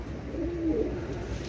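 Damascene high-flying pigeons give one soft, close coo that rises briefly out of a quiet background.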